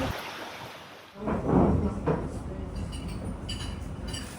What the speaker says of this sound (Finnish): Nyt tuli oikein kaatosade.